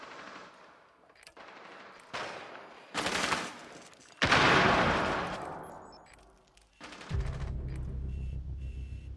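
Bursts of automatic gunfire in a ranked match of the shooter game Rainbow Six Siege, several loud rapid volleys separated by short gaps, ending in a sustained low rumble of continuous fire.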